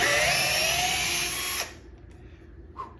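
A Bosch 12V driver on speed setting 2 sinks a screw deep into wood, a close, high-pitched whirring whine that climbs steadily, then cuts off abruptly, followed by a couple of small knocks.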